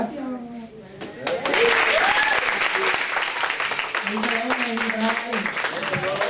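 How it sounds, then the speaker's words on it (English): A youth service congregation at New Generation Ministries gives the kids a standing round of applause. After a brief quieter start it swells into loud, sustained clapping, with voices and cheers mixed through it. "Can we stand up and give the kids one more round of applause?"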